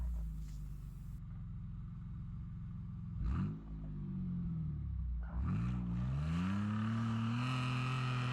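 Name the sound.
Mitsubishi Pajero engine revving climbing frozen sand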